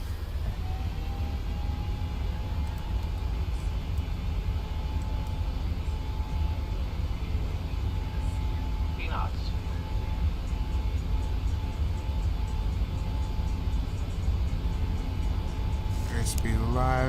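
Boeing 737 jet engines spooling to takeoff thrust in Microsoft Flight Simulator, a steady loud roar with a thin whine through the takeoff roll, cockpit voices calling out over the top.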